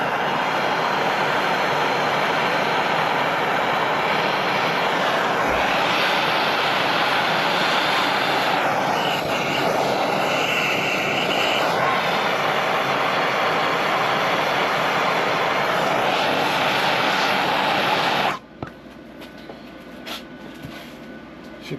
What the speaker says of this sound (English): Heat the metal up so we don't warp.